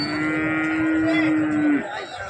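A buffalo at the Sangola livestock market gives one long, loud, steady moo lasting nearly two seconds, close by, with market bustle behind it and no speech over it.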